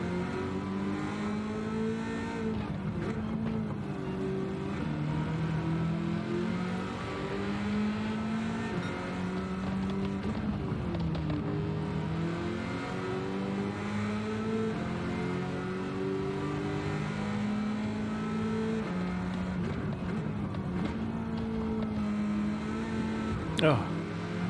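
A Chevrolet Camaro ZL1 race car engine in Gran Turismo 7 on a track with a corkscrew section, droning and shifting pitch as it revs up and down through gears, steady and continuous under frequent talk.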